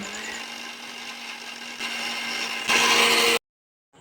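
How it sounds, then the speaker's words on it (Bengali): An electric mixer grinds chopped raw green mango with a little water into paste: a steady motor whine that grows louder and harsher in two steps, then stops abruptly. "এখন আমি কেটে রাখা কাঁচা আম পেস্ট করে নেব"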